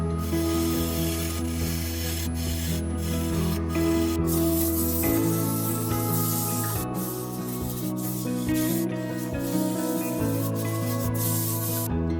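Sandpaper rubbing over a wooden vase turned from a fallen tree, 220 grit, a continuous close hiss and scrape with a faint steady hum behind it, no talk.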